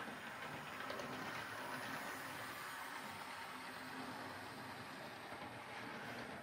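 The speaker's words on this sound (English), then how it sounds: "as this one's been going around the track more and more, it seems to be running more and more smoothly" A Hornby model train set locomotive runs around its track, a faint continuous rattling hum with no voices.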